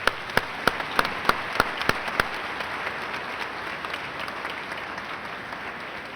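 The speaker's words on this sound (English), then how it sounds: "Please give yourselves a round of applause." Applause fills a junior high graduation hall, a few sharp individual claps at the start spreading into a steady, dense crowd clapping that holds throughout.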